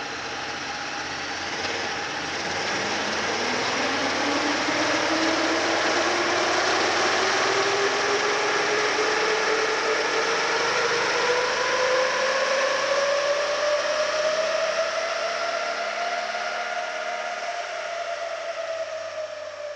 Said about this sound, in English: I started the bike, I put it into automatic mode, drive, and I just pushed on or twisted the twist grip, took it up through the revs